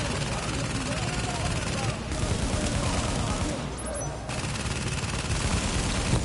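Sustained automatic gunfire in The Division aimed at a deployed turret, dense and continuous for several seconds with brief dips, loud and close amid game noise.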